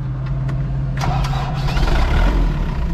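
A grape-harvesting machine's engine cranks and catches, a loud close rumble with a few sharp clicks at first, then a steady roar as it starts running.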